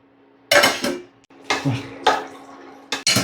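A metal lid clatters as it is lifted off a pot of simmering Kerala olan, a coconut-milk curry with ash gourd and cowpeas: several sharp, close clanks and scrapes in quick succession, with no voices.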